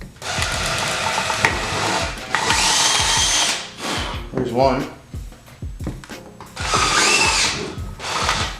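A power drill bores a hole through a car driveshaft in a series of loud whirring bursts that rise and stop, with short pauses between them and someone speaking briefly.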